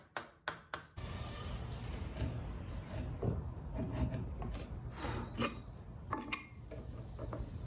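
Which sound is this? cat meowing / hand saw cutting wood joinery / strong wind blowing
hand saw cutting wood joinery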